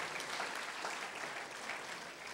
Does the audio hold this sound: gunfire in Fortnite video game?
no